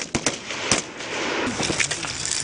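Rapid bursts of rifle gunfire on an army shooting range during firing practice, sharp close cracks repeating in quick irregular succession with echoing reports.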